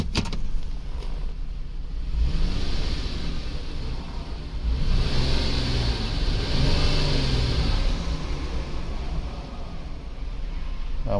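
A 2010 Chrysler Sebring convertible's 2.7L engine idling roughly with cylinder 2 disabled, a close, steady low rumble with an uneven, lumpy misfiring pulse throughout.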